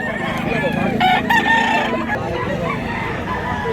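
A rooster crows loudly nearby amid clucking chickens, with faint background chatter and farmyard noise, at a rooster sale in Mantalungon, Cebu.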